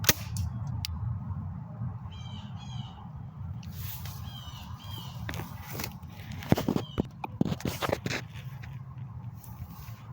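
Sharp, irregular snapping pops from a BB gun over steady low outdoor rumble, with a few birds chirping faintly in the background.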